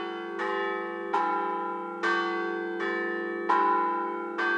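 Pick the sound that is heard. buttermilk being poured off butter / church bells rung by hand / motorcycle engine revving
church bells rung by hand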